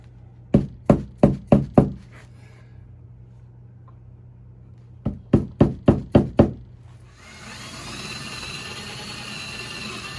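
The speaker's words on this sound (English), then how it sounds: "I'm going to punch the awl in there a little bit further" An awl punched repeatedly into a bird feeder to start a hole, heard as two close, loud bursts of five or six sharp knocks each, separated by quiet, before a steady broadband noise takes over.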